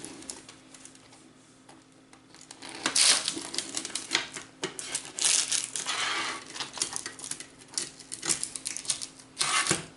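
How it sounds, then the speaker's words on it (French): A knife cuts a slice from a baked chorizo calzone fresh from the oven, giving close, crisp crunching and crackling bursts of crust with quieter pauses between them. "Je vais couper donc une part."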